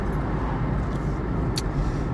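Steady, fairly loud road rumble from inside a car driving through traffic into town, with a brief hiss of a passing vehicle and no talking.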